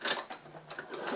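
A sewing machine stitching a fabric pouch in short close bursts, whirring and clattering in quick rhythmic spurts, with a brief stop between runs.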